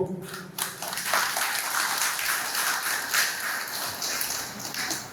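Audience clapping at the opening of a new bypass surgery unit at Anandlok Hospital in Raniganj, a moderate, steady patter of hands in a hall that starts abruptly and continues evenly to the end.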